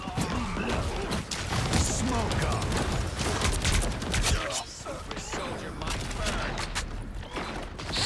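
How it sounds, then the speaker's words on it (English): Dense, continuous gunfire from the Punisher character in a video game, rapid overlapping shots and impacts mixed with game noise and loud talk throughout. "I'm just shooting everything"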